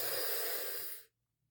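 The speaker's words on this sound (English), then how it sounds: "you're going to be breathing in through that taco tongue" A long, steady breath drawn in through the mouth past a curled tongue during a breathwork exercise, close and airy, then stopping abruptly into silence.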